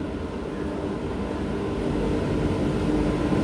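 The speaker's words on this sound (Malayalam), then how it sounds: "ട്രെയിൻ ഇതാ പ്ലാറ്റ്ഫോമിലേക്ക് കടന്നു വരികയാണ്" Janshatabdi Express train with a WAP7 locomotive pulling into a station platform, a steady, fairly loud low rumble of rolling wheels and carriages that builds slightly and holds throughout.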